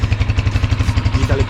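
A 2021 Honda Rebel 250 motorcycle engine idles close by, a steady, even chugging pulse with light mechanical clatter.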